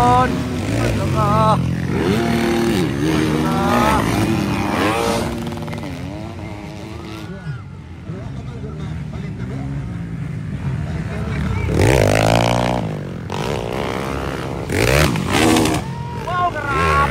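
Women's 450cc motorcycle race, engines revving and droning continuously throughout with shifting pitch, rising and falling as bikes pass, under excited commentary and crowd noise.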